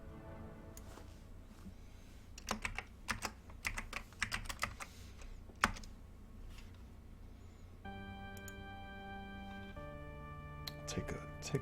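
Bursts of quick clicky typing on a computer keyboard, close and fairly quiet, interrupted by pauses and a few soft electronic tones.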